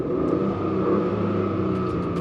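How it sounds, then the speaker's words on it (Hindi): A Mahindra XUV 300 Turbo Sport with a 6-speed manual transmission and no separately tuned exhaust hums under load as it is driven. The engine drone is steady and close, with no talking. "जब आप इस गाड़ी को चला लोगे this is how the engine sounds."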